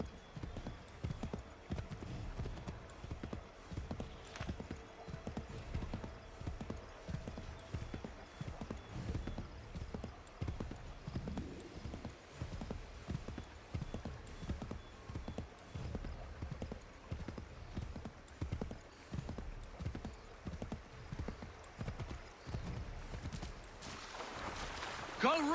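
A horse gallops steadily in Assassin's Creed 3, its hooves striking in a continuous rhythmic clip-clop for the whole stretch, with faint voices now and then.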